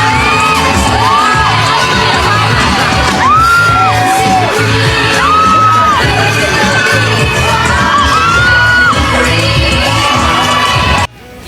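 A mall-show crowd cheers as actress Julia Barreto dances to Dancing Queen: loud, sustained screams, whoops and shrill shouts rise and fall in waves, with a thick roar of voices underneath and occasional bangs.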